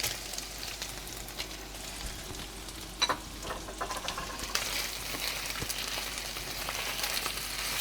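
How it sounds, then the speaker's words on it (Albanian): Chicken frying with melting butter and onions in a pan, giving a soft, steady sizzle with a few small clicks and no talking. "Shkrie dhe gjalpi bashkë me mishin."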